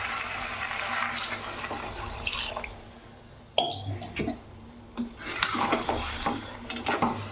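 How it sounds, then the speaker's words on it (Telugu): Water is poured into a pot of chicken potato curry, a splashing, gurgling pour with clinks of the pot, fading then resuming in bursts, nearby. "కొంచెం వాటర్ పోసుకుందాం"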